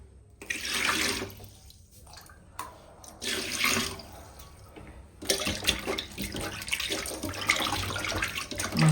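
Tap water runs in bursts as pieces of large bhola fish are washed clean in a kitchen sink, splashing on and off close by.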